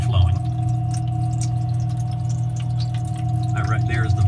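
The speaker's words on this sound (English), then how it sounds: "that pumps the water from the tray to the top of the ice matrix right there." Small pump in an ice maker circulating water from the tray up to the top of the ice grid, a steady hum with constant tonal whine and faint trickling, close and continuous.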